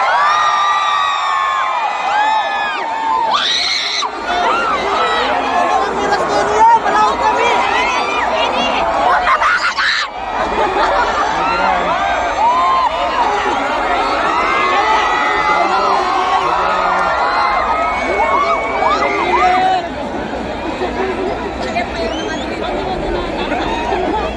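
A loud political rally crowd cheering, whooping and shouting over constant babble, with high voices rising and falling throughout.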